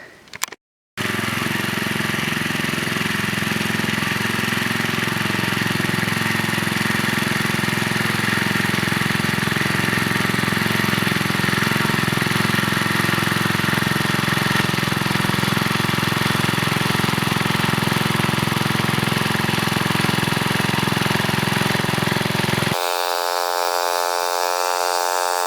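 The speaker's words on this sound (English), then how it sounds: "let's get the row buster out and make the rows." A garden tiller fitted with a row buster churns out rows in a wet spring garden, its engine a loud, continuous rough drone running nearly the whole time before shutting off near the end.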